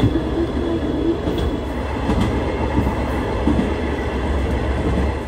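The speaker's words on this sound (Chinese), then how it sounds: "我们就是搭这台很可爱的大溪鹿岛线，它只有。 2台车厢" A small two-car Oarai Kashima Line train runs along in Japan, its steady rumble and rolling wheel noise filling the cabin continuously, with faint rattles and no talk.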